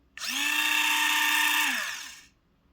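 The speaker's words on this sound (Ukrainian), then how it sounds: "ось ця щіточка вмикається тут, насаджується" A small electric motor whirs to life and runs at a steady high-pitched hum for about two seconds, then winds down and stops.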